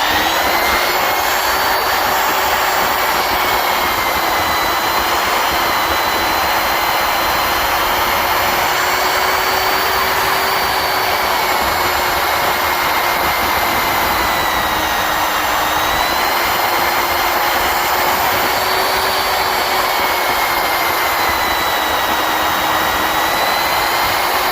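A vacuum cleaner runs in a red brick house under renovation, a loud, constant whooshing roar with a steady high motor whine that barely wavers throughout.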